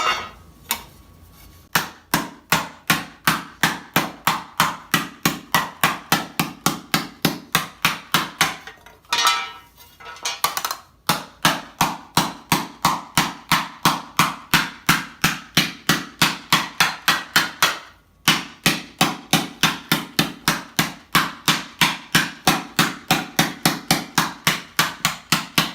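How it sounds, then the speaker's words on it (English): Steady, rhythmic hammer blows on a metal greave plate being shaped for armor, working around the heel. Dozens of sharp, evenly spaced strikes run close and loud throughout, with two short pauses. "So we'll just start hammering it out here."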